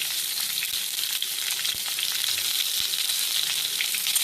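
Onion, garlic and potatoes sizzle steadily in a kadai, a dense, continuous frying hiss with occasional soft clinks of stirring, close and fairly loud with no talking.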